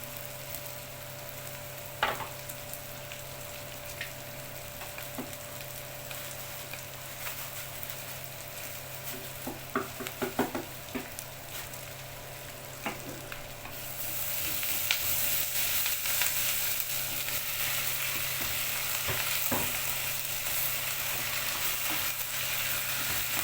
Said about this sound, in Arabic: وهنزل بقى اللحمه تتشوح